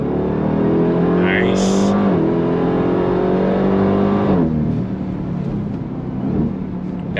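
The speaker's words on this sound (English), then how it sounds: "Let's do launch control again." A 2025 Dodge Durango Hellcat Hammerhead SUV launches hard, its supercharged engine roaring loud and close as revs climb, drop at upshifts, and climb again, with a brief high whine; a voice speaks over it near the end.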